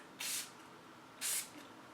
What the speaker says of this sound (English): So I'm just gonna spray this on my face.